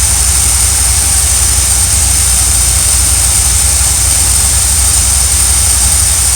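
A hot RV engine idles loudly and continuously close by, a heavy, steady rumble with a high-pitched whine on top that holds unchanged throughout.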